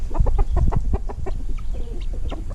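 Several chickens cluck in a busy, overlapping burst of short calls, fairly close and steady throughout, with farmyard bird chatter, including guinea fowl, mixed in.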